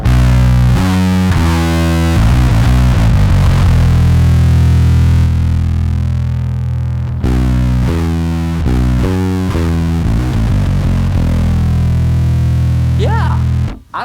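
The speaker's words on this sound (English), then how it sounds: "It's such an aggressive distortion." Bass guitar played through a Boss ODB-3 bass overdrive pedal set fully wet: thick, aggressive distorted low notes in a repeating riff, loud and alone, with a brief pause midway and a slide at the end.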